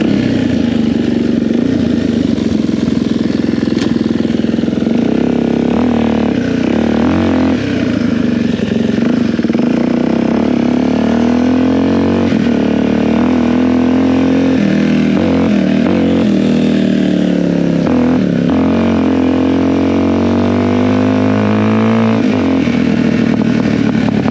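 A Suzuki DRZ 400 dirt bike being ridden, its single-cylinder engine droning loud and close with repeated revs and shifts in pitch, rising and falling as the rider accelerates and eases off.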